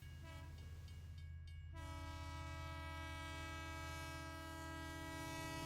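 A train in Bombay rumbles steadily along the rails while a long, loud horn blares and holds, rolling and droning without pause.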